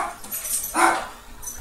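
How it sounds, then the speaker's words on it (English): Dogs barking somewhere off in the background of a workshop, giving a short burst of yips and barks that rise briefly over a steady room hiss. "Yeah, the dogs are barking."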